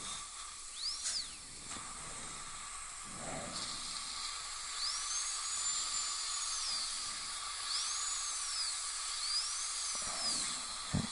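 A high-pitched dental drill whines in several sustained bursts, its pitch rising and settling as it makes a depth cut on a tooth for an all-ceramic preparation, close up over a constant suction hiss.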